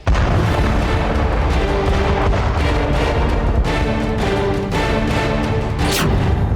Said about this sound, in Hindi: यहां ऐसा धमाका हुआ जिससे पूरा इलाका कब्रिस्तान बन गया